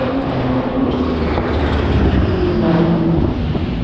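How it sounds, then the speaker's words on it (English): A BMW M6 GT3 race car at the Nürburgring gives a loud, close, sustained engine roar with a rich, steady harmonic drone that shifts slightly in pitch, heard alone without voices. "It's one of the best sounding cars, the M6 GT3."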